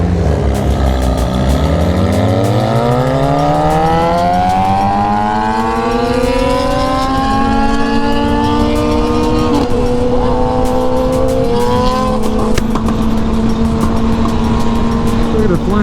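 A Camaro engine revs hard and holds high, its pitch sweeping upward and then sustaining a loud throaty roar with crackles and pops from the flame-shooting exhaust, heard close from a group of sport motorcycles. Riders talk faintly underneath.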